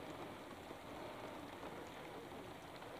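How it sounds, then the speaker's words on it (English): Steady soft hiss of falling rain, quiet and even throughout with no voices. "It's raining."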